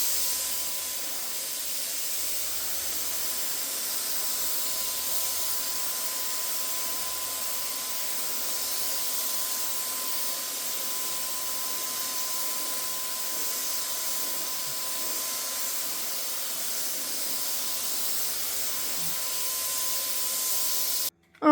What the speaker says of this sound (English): I'm going to plug everything up and let's get to spraying